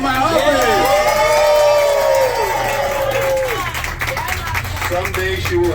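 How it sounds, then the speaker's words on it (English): Attendees at an outdoor environmental justice coastline tour gathering clap and cheer, with whoops and voices rising over scattered applause and people talking throughout. "Give yourself a round of applause."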